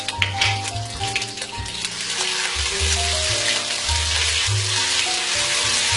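Ginger and garlic paste frying in hot oil in a wok for prawn fried rice, a steady close sizzle with bubbling and occasional stirring clatter throughout.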